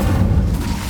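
A short, heavy whoosh of a fire spell in the video game Hogwarts Legacy, a loud, dense low rumble lasting about a second.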